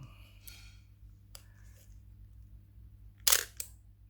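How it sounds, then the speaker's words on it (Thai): A few sharp mechanical shutter clicks from an Olympus OM-10 film camera at 1/500 speed, close and isolated, with the loudest double snap near the end over faint background hum. "สปีด500เสียงชัตเตอร์ประมาณนี้"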